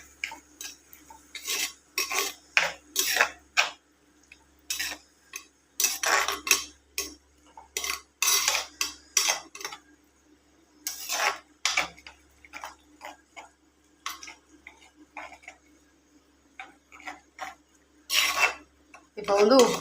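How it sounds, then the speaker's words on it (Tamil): Spoon stirring and scraping in a pot of bottle gourd kadasal curry, irregular clinking and scraping strokes in short bursts with quiet gaps between, close and fairly soft. "சேர்த்து நல்லா கலந்து கொடுத்துக்குவோம்"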